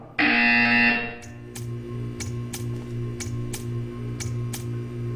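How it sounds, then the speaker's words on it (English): A loud electronic buzzer from the Portal 2 video game blares for about a second, followed by a rhythmic series of sharp ticking clicks over a low mechanical hum. "You will hear a buzzer."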